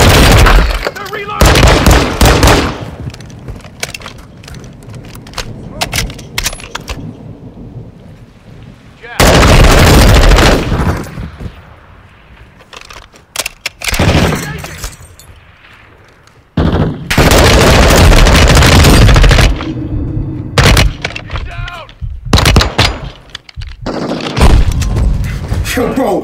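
Rapid gunfire bursts from Modern Warfare 2 campaign gameplay, loud and repeated in long automatic volleys with short gaps between them.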